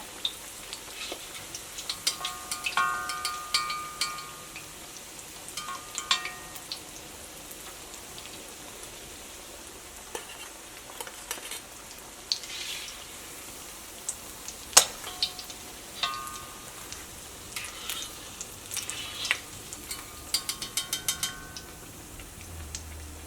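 Egg snacks frying in coconut oil give a steady, fairly quiet sizzle dotted with sharp crackles and pops that rise and fall in irregular bursts, with no talking.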